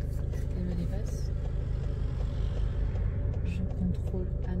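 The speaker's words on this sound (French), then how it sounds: "j'ai une voiture qui arrive, j'attends" During a driving lesson, a passing car approaches and overtakes, heard as a steady road and engine rumble inside the vehicle with people talking over it.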